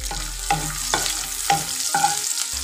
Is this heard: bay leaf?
yes